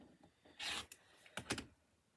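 Scissors or a rotary cutter slice through quilt fabric pieces down the middle in a few quick, quiet crisp bursts, close and faint with brief gaps between cuts.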